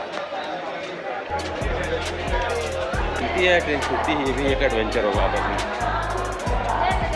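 Crowd at Hazrat Nizamuddin railway station in light rain: a steady hubbub of many voices with a low mechanical hum beneath, and a nearby person talking over it.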